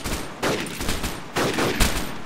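Gunfire from a shootout in the video game Arma 3, with loud bursts of shots that swell, fade and return in two heavy waves and stay dense throughout.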